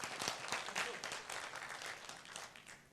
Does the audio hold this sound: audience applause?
yes